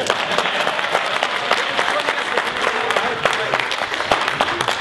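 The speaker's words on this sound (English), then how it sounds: "Round of applause for Ian!" Audience applause at a stage show, a dense steady clapping from a crowd that carries through the whole stretch at an even, fairly loud level.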